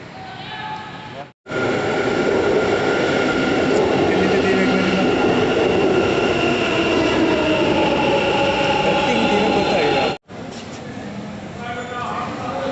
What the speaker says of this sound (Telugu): స్పీడ్లో స్లో అవుతుంది మెట్రో, యాక్సిలేటర్ స్లో అవుతుంది